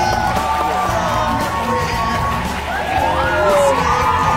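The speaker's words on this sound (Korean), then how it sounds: "뜨거운 박수 부탁드립니다!" A television studio audience cheers and shouts loudly for a costumed Spider-Man performer, with a dense, sustained roar of voices and whoops close up.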